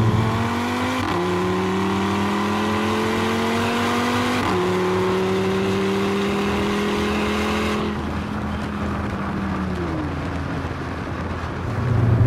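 An Audi RS3 accelerating hard with launch control, loud engine revs climbing in pitch through several gear changes with brief drops between shifts, heard from inside the car with no talk.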